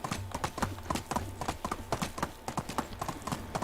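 Horse hooves clip-clop in a steady rhythm in the Medieval Dynasty video game, close and fairly loud over a faint background tone, with a soft whinny-like sound now and then.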